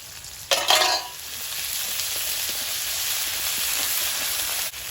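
Whole cumin, chopped onion, slit green chili and ginger-garlic paste go into hot oil for a fish curry. A sharp burst of sizzle is followed by a steady, close hiss of frying with stirring, and nobody speaks.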